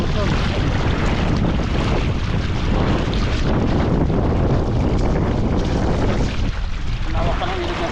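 Strong wind over a river roars as a steady, loud, blustery rush against the microphone, continuous for several seconds with a voice speaking underneath.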